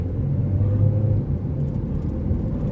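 A Mazda car with an electric throttle controller pulls away hard from a standstill, its engine droning and rumbling steadily close by with no voices.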